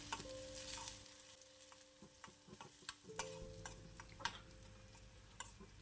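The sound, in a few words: mustard seeds spluttering in coconut oil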